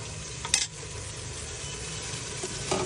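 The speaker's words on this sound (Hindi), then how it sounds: "इसे इतना भूनना है कि इसका कलर चेंज हो जाए" Beef karahi with whole garlic and ginger stir-fried in a pan gives a soft, steady sizzle, broken by a couple of brief stirring scrapes.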